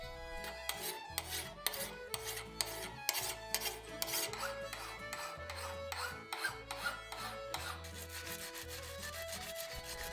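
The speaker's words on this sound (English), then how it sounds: "I use my Japanese rock weld files to test the hardness of the blade" A Japanese rock-weld file rasps across a laminated forge-welded steel axe blade to test its hardness, giving a run of steady, evenly spaced scraping strokes with a sustained tonal layer underneath.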